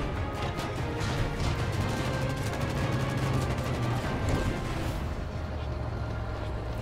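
Explosions and gunfire in the Battlefield V game in a destroyed city at night, a dense rumbling barrage of blasts and crackling shots with a low booming bed throughout.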